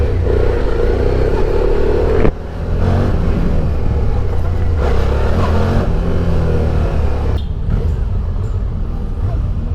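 A new SVT 650X motorcycle engine runs steadily and smoothly up close, a continuous low rumble with a brief dip and shifts in tone, with a voice speaking over it.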